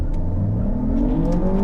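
A 2023 Lexus RX hybrid launches hard from a standstill, its engine note rising steadily in pitch as it accelerates, loud and close with a smooth electric whir underneath.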